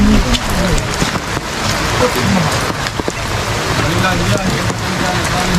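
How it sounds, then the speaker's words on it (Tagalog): Steady, heavy rain pours outdoors onto surfaces, a dense and continuous patter that stays loud and close throughout without a break. "talagang naulan"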